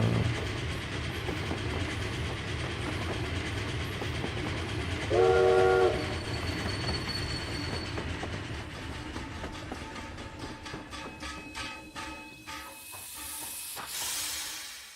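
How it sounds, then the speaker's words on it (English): A steam train rolls through a Wild West battle royale game world, its horn sounding briefly over a steady rumbling, hissing run of wheels and steam, with some rhythmic clatter building toward the end. "I don't understand why this train is going with the zone."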